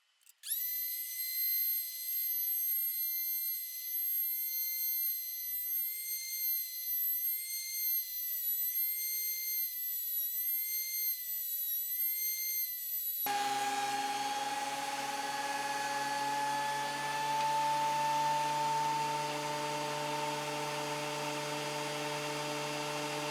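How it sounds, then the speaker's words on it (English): A wood planer runs steadily with a high whine at first, then shifts to a deeper, louder roar as boards feed through to be planed flat and parallel for a foot rest, continuous and close with no talk. "I'm going to run them through the planer to get the other side flat and parallel to the first side"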